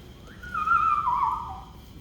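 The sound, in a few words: person whistling, attempting to imitate R2-D2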